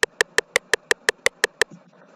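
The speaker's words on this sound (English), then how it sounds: "so the metronome will sound like this" A metronome clicks at 341 beats per minute: ten sharp, evenly spaced ticks in quick succession, close and clear, then a brief soft rustle as it stops.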